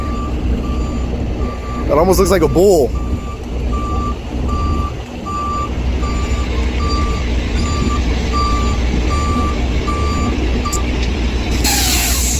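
Heavy rotator tow truck at a freeway container rollover rescue, reversing with a steady run of evenly spaced backup beeps over a rumbling diesel engine, a short hiss of air brakes and someone speaking briefly nearby.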